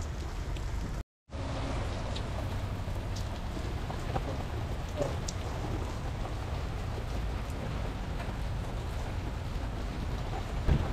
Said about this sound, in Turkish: Hop yağmur.